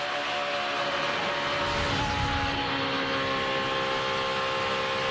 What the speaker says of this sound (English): Listen to him hard on that gas and just gaining on the other trucks.